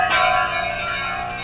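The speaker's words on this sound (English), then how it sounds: "Bells." A single bright electronic bell tone from a Roland MT-32 synthesizer strikes loudly and rings out, its shimmering overtones fading over about a second.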